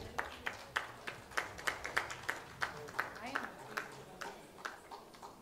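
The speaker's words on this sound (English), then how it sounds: "Can we have a round of applause for her?" Rhythmic round of applause from a conference audience in New Delhi, scattered individual claps at a steady, somewhat slow pace, moderately loud and fairly close, without talk over it.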